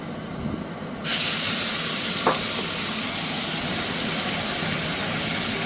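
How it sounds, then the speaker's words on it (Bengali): Kachki fish frying in a pan, a steady loud hiss and sizzle that swells abruptly after a second and continues alone, with a faint clink partway through. "এইভাবে সব মাছগুলোকে আমি ভেজে নেব"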